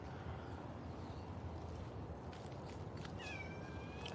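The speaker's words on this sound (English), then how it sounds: "Meow, meow, meow." A domestic cat meows faintly a few times at a homestead, soft and somewhat distant over a low steady background hum, with no one talking.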